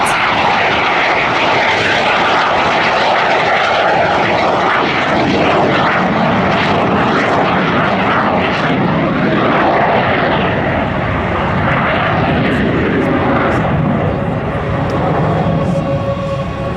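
Aermacchi MB-339 jet flying a solo Crazy Flight display at an airshow, a loud continuous engine roar that swells and shifts as the aircraft passes overhead, filling the whole stretch with no talk.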